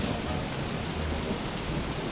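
Rain and thunder from the video game Don't Starve form a dense, even wash of rainfall with a low rumbling undertone, steady and loud throughout with no voices.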